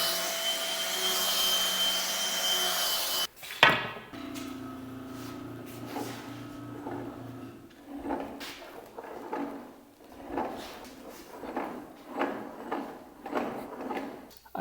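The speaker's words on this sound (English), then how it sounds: "grabbing that chainsaw file and making the side grooves a little bit deeper so the string sits in there flushly" A chainsaw file deepens the side grooves in the overlays of a kit bow's tips. A steady mechanical hum comes first, then a clunk, then a series of regular rasping strokes close to the microphone.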